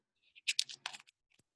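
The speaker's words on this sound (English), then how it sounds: "loud typing and dinging comes from Ron's office" Keys clack on an old Underwood 5 manual typewriter in an office, a quick burst of a few crisp strikes followed by a brief pause and one last faint tap, close and clear with no voices.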